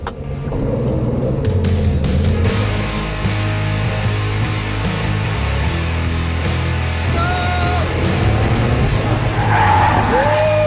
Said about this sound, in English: The skid pan simulates a sudden loss of traction by sliding a 1-ton plate as the rear wheels pass over it.